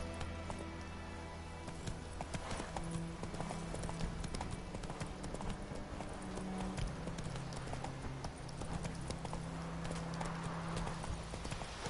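Roach, the horse in The Witcher, gallops in a rapid, steady run of hoofbeats that continues without a break, with in-game ambience and music underneath.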